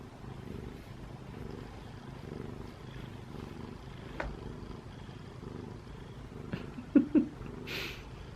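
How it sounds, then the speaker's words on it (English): A house cat purrs softly and steadily, close by in a quiet room at home, with a few faint clicks and a brief rustle near the end. "I have a cat friend."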